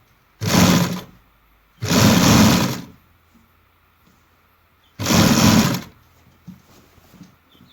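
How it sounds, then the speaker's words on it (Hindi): A sewing machine stitching along the folded edge of a baby's kurta fabric, running in three loud bursts of about a second each with short quiet pauses between, close up and without talk. "मैं इसके किनारे किनारे पे इस तरीके से सिलाई लगा लूँगी"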